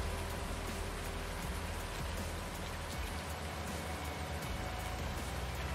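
Heavy rain in Farming Simulator 19, a dense, continuous hiss of drops hitting surfaces, steady and loud from start to finish with a low rumble underneath.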